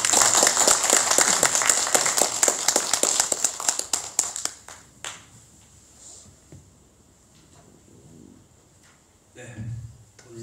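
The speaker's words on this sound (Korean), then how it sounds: "우리 집사님 나오실 때 큰 박수로 환영해 주시기 바랍니다." A church congregation claps in welcome for a deacon giving a Christmas testimony, with brisk, dense claps for about four seconds, a few stray claps after, then quiet shuffling and a brief rustle near the end.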